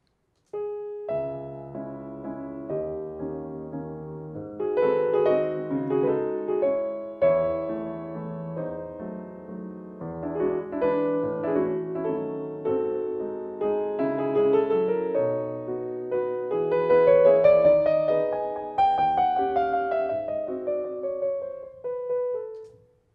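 A sampled Bösendorfer upright piano heard from the player's position plays a gentle chordal passage with a melody that rises to a high run and then fades to silence, solo and clean.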